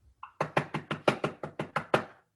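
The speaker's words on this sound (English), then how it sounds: "He frantically knocks on the door" Frantic knocking on a door: nine rapid, loud, evenly spaced knocks in a quick burst after a faint short tone, close and alone.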